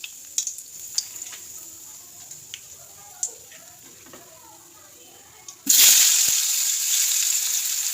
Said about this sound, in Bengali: এবার আলুটাকে ভেজে নেব।